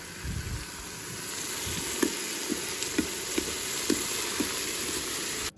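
Garlic puree sizzles in butter in a Ninja Foodi pot, a steady close hiss with light stirring taps spaced through it, no talking, stopping abruptly at the end.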